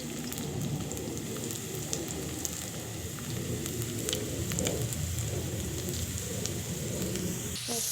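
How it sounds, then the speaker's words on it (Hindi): Potatoes fry lightly in a pan, giving a soft, steady sizzle and crackle like light rain that stays quiet and even throughout. "आलू हल्का सा फ्राई कर लेती हूँ"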